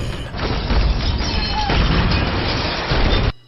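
A loud, sustained film explosion roar fills the clip with dense rumbling and crackling debris for about three seconds before cutting off abruptly.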